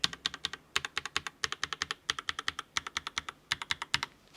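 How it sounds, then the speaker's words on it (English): QWERTY keys on a Redragon K656 Garen Pro mechanical gaming keyboard are typed in quick bursts of crisp, sharp clicks, close up and separated by brief pauses. "Okay, over to the Redragon keyboard. So we're going to do the QWERTY keys first."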